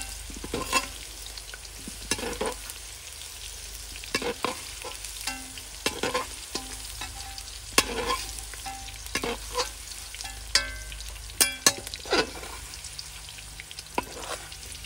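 Ivy gourds (dondakaya), more than a kilo of them, fry and sizzle steadily in a pan, with repeated scraping stirs and clatters of a spoon breaking through the continuous hiss.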